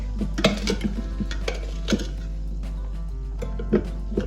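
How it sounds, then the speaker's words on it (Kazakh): A spoon clinks and scrapes around a bowl in irregular strokes, close by, over a low steady hum. "Жақсылап араластырып"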